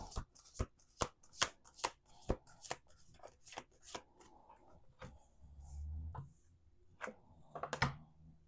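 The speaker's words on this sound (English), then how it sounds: "let's do 2 more shuffles" Rapid riffle shuffles of playing cards, a series of crisp ruffling bursts in quick succession, close by, followed by softer handling of the cards.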